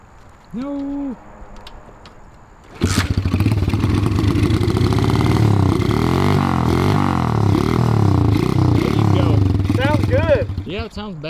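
A junkyard-built 110cc shifter mini bike engine bursts into life and revs loudly and steadily close by, with rising and falling throttle, after a brief voice; a short voice returns near the end.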